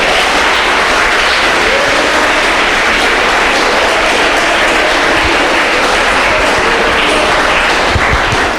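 A church congregation claps loudly and continuously, a thick wash of applause with a few distant shouts and no clear break.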